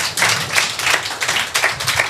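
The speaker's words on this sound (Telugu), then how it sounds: "చప్పట్లు కొడతారా" A church congregation claps for God in a rhythmic series of loud, sharp claps in quick bursts with short gaps, close and lively.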